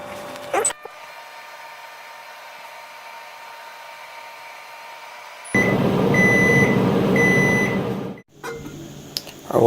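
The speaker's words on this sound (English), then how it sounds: "So now we're going to heat up our water in a microwave." A microwave oven runs steadily while heating water, giving a continuous hum, and then finishes with a short series of beeps. A louder noise follows as the door or the surroundings become active near the end.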